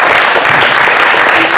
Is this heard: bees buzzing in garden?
no